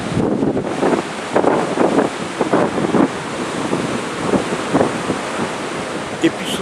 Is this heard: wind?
yes